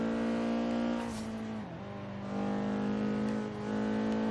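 A Nissan 240SX drift build in Forza Horizon 3 revs its engine in a sustained, buzzy whine that dips and climbs again twice, heard alone at moderate level.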